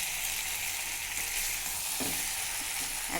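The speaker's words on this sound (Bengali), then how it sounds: "মশলাটা মিশিয়ে নিই, যে গুঁড়ো মশলাটা দিয়েছিলাম" Ground spices being stirred into pumpkin and potato cooking in a pan: a steady close sizzle of frying fills the clip, with a couple of brief scraping knocks from the spoon near the end.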